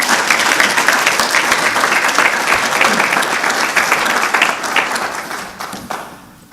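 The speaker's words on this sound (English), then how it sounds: "A round of applause for Mike Ensley." Audience applause at a forum on aging and disabilities, steady and full for about five seconds before thinning out and fading toward the end.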